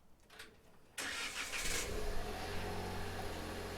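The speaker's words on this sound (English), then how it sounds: "The Rogue will respond by flashing its lights and starting." A Nissan Rogue engine cranks and catches after a remote start from the key fob, then settles into a steady close idle hum; no voices.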